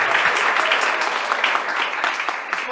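An audience at a talk applauds the school director with brisk, full clapping that stays steady and fairly close for a few seconds.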